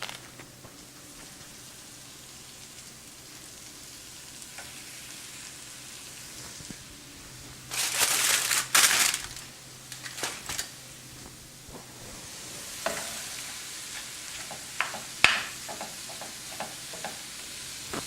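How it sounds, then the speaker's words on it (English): Ground beef browns in a pan for a calzone filling with a soft, low sizzle. Louder bursts of stirring and scraping break in now and then, close and without talk. "So you want to brown your ground beef as well."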